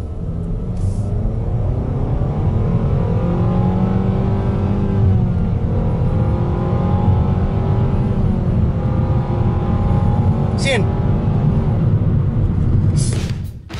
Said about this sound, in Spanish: me da curiosidad cómo funciona este vehículo en una prueba un poquito más dinámica